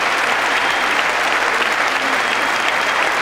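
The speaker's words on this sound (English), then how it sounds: "Oh, Nancy's giving us a clap" A large crowd at the State of the Union address applauds, a loud, dense and steady clapping that fills the whole stretch without a break.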